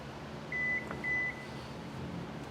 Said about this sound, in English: It's got a beeper.